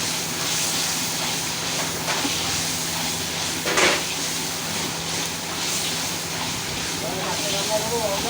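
Chicken shahi korma sizzles in a pan as it is sautéed, a steady close hiss of frying throughout with faint stirring, and a voice talks quietly underneath.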